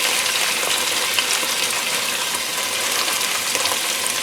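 About 1.5 pounds of beef searing in a crowded pan gives off a loud, even, rushing sizzle with tiny crackles, close and unbroken throughout.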